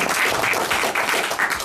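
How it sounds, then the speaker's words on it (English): A large audience applauds at a film preview event, a dense, steady wash of hand clapping held at an even level from start to finish. "I think we need to give you a hands of a big hands of applause."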